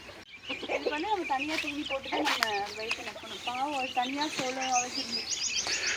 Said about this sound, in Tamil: இப்போ அங்கே ஒரு சேவல் இருக்கு பாருங்க